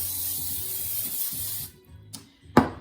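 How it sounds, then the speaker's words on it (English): A steady hiss of an aerosol nonstick cooking spray onto a pan for about a second and a half, followed by a couple of short, sharper spritzes. "I'm going to spray my pan with a little bit of nonstick spray."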